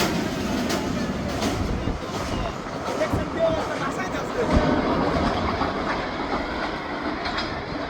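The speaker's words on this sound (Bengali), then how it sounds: "প্রচণ্ড বেগে তিস্তা এক্সপ্রেস চলে যাচ্ছে" The Tista Express passwenger train rushes at high speed over the Jhenai railway bridge in Jamalpur, a loud, continuous rumble with rhythmic clickety-clack of wheels heard up close from the bridge deck.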